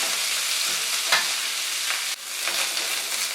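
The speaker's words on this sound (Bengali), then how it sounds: "সবজিগুলো ফ্রাই করার সময় কিন্তু এটাকে নাড়তে হচ্ছে কনস্ট্যান্ট" Vegetables stir-fried over high heat for veg chowmein, giving a loud, steady sizzle with a few brief scraping stirs, close and alone with no voices.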